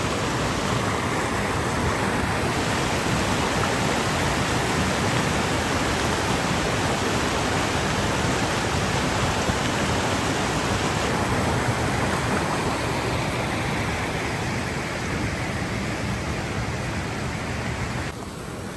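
Steady rushing water from a mountain stream at Whitney Portal, Mount Whitney, California, loud and continuous with a broad hiss, no other sounds standing out.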